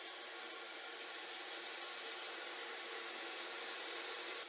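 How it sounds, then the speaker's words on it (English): A random orbital sander fitted with 120 grit paper sands a wooden workpiece for a three-dimensional heart, giving a steady, even whirring hiss that holds unbroken throughout, close and fairly quiet. "my hand is much less likely to get mangled by the random orbital sander"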